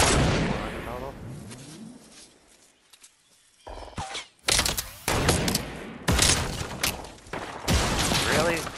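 Gunfire in a duo battle-royale match, bursts of shots cracking loudly in the second half after a quieter stretch, with players talking over the action.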